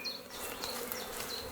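Honey bees buzzing around the original hive, a close, dense and continuous hum with individual bees whining past now and then.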